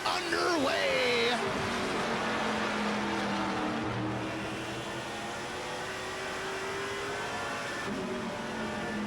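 Race cars lapping the Golden Sands track during the Labor Day Cleaver Classic, a loud engine whine that rises and then settles into a sustained drone, with an announcer commentating over it.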